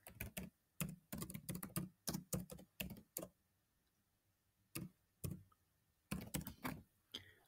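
Typing on a computer keyboard, close and fairly quiet, in quick bursts of clicking keystrokes separated by short pauses, with no talking.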